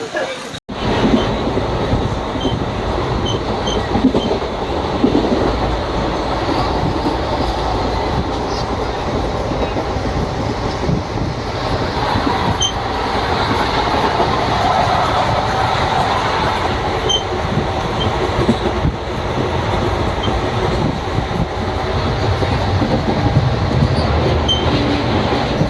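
The 12363 Kolkata to New Jalpaiguri Intercity Express pulls away after a green signal, heard from inside the coach as a loud, constant rumble with rattling wheels and faint squeals.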